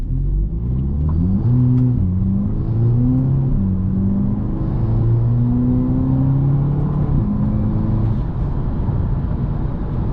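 A stock VW Polo GTI engine revs up and down continuously and loudly, its pitch climbing and dropping in steady waves. No one speaks.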